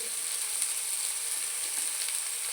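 A steady, even hiss of eggplant frying in a hot pan, continuous and unbroken, with no talking.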